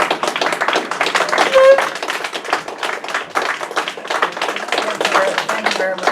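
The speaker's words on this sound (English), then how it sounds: "I would like everybody to stand and give them a round of applause" Many people clap together in a sustained round of applause, with voices and cheering mixed in throughout.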